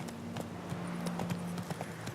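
Horse hooves clip-clop steadily in The Witcher 3, a quick, even rhythm of soft knocks at moderate distance over a low constant ambient hum.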